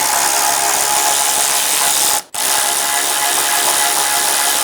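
A ratchet works the 10mm bolts off a windshield washer fluid reservoir on a 2013-2017 Honda Accord, giving a loud, steady mechanical clicking that stops in a brief pause, then resumes.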